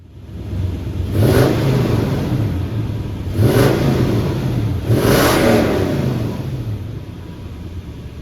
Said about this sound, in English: Don't forget to give the engine a few light revs to see if you can notice anything odd.